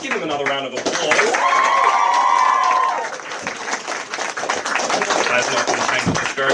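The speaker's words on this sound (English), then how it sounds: "Give him another round of applause." Comedy show audience clapping in a sustained round of applause, with a voice speaking over it near the start and the clapping continuing loud to the end.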